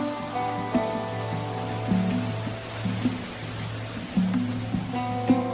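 Rain falls steadily in a tropical rainforest, a broad, even wash of drops beneath sustained low droning tones, with a few slightly louder patters standing out.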